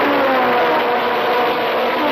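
Several 1963 Grand Prix race cars with 1.5-litre unsupercharged engines, including Lotus Climax and Brabham Climax, get away from the start in a loud, continuous engine roar with a slight whine and no talk over it.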